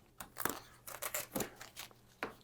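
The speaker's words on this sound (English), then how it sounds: "You want to pull the tape off, Norm?" Tape being pulled off a Starfield blaster prop model in several short ripping and crinkling bursts, close and fairly quiet, with brief pauses between pulls.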